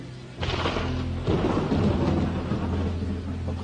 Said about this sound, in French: Incroyable un orage pareil.